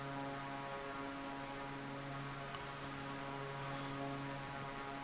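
A small propeller plane flies over Lake Annecy, its engine a steady, continuous drone with a harmonic hum that stays even throughout, with no talking.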